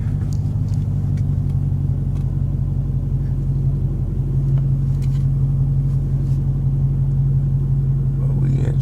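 Dodge Challenger Hellcat engine rumbling steadily from inside the cabin while driving in light traffic, a loud, deep, continuous low drone with a faint voice briefly near the end.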